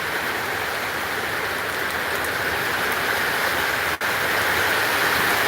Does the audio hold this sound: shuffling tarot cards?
no